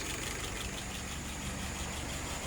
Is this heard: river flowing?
no